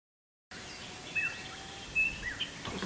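A few thin, high chirps from small Australian birds over a steady outdoor hiss, faint and somewhat distant, starting after a brief silence.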